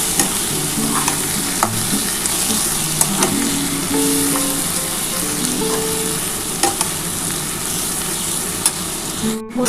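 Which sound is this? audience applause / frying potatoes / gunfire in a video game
frying potatoes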